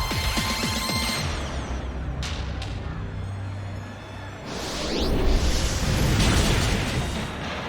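Sludge Wave attack effect in a Pokémon battle game: a roaring, crashing wash of noise that swells, with sharp whooshing bursts early and a heavy surging wave building in the second half, loud and continuous.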